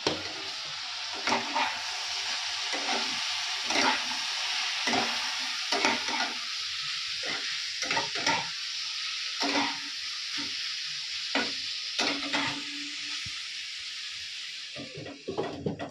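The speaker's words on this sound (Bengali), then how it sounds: "এখানে ফুলকপি আলু ভাজা করেছি" Cauliflower and potatoes frying in a pan on a gas stove at home, a steady soft sizzle broken by repeated scraping and stirring strokes of a spatula at a close distance.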